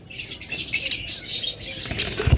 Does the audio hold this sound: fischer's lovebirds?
yes